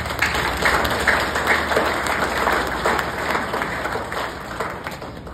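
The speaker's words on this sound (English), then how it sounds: "let's give them a warm round of applause" Warm round of applause from a congregation at a theology graduation Mass with a bishop as main celebrant, steady clapping from a large crowd in a reverberant hall, continuous throughout over a faint background hum.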